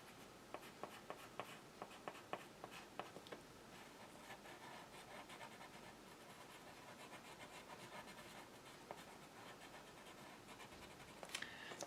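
Crayons rubbing across paper for a worm craft, a soft continuous scratchy scribbling with quick stroke clicks, faint and close with no talking.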